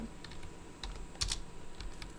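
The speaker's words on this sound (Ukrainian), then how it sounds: "Я знаю, що ви чуєте, як я клацаю цим." Computer keyboard clicking while playing ARK: Survival Evolved (Scorched Earth), a scattering of light, quick key taps and a couple of sharper clicks, close and fairly quiet over a soft background hum, with no talking.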